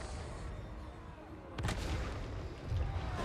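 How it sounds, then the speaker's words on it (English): Inferno cannons of the Disciples of Hashut fire in a Total War: Warhammer 3 battle, two heavy booming blasts about a second apart over a constant rumble of fighting. "Using those Inferno cannons. Doing some good damage there."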